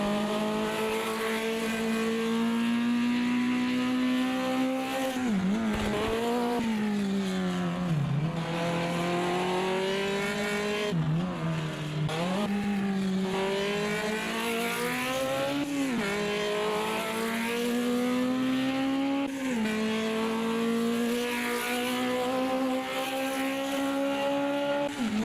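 Formula Junior race car engine in a racing sim game at Curvelo, revving up and down in repeated loud sweeps, held almost without a break for the whole stretch.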